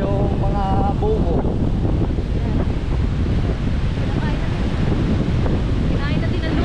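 Sea waves wash onto a storm-hit shore after a typhoon, under heavy gusting wind that buffets the microphone, a loud, continuous roar with people talking faintly over it.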